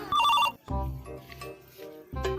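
A telephone rings with an electronic warbling tone at the start, then chimes again among other sounds, close and fairly loud before a short burst of speech at the end.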